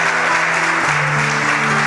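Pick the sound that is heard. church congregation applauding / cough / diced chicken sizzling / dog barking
church congregation applauding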